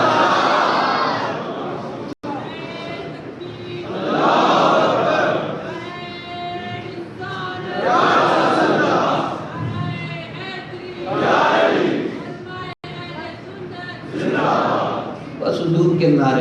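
A large crowd chants religious slogans together in repeated surging bursts, loud and close, with the voices rising and falling in waves.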